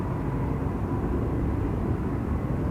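United Boeing 777-200 taxiing at Amsterdam Schiphol, a dense steady low engine rumble, fairly distant and unbroken, with no voices.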